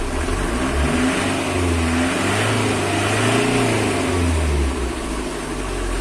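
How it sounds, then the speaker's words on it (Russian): A homemade mini MTZ tractor runs in the snow, its engine droning loud and steady at close range with slight swells in pitch, no voices. "Ну и вообще думал, что трактор не запустится."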